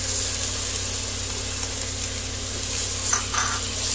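Ground pork and garlic sizzle in a hot pan, a steady, even hiss at moderate level with a faint low hum beneath and no talking.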